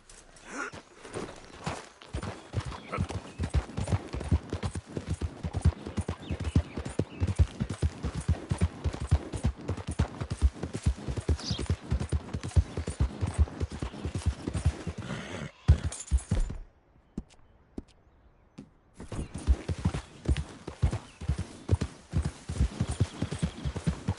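Horse hooves from Red Dead Redemption II clatter in a fast, rhythmic gallop, loud and steady, break off into a brief near-silence, then resume galloping.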